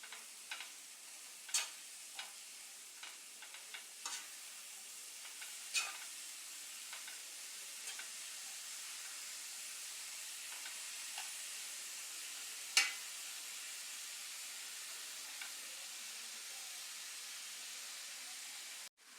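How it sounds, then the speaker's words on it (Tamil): Chopped spinach and peas sauté in a hot pan for a pulao, giving a steady quiet sizzle and hiss with scattered soft ticks and stirring clicks, one sharper knock partway through, and no voices. "நல்லா வதக்கிடுங்க."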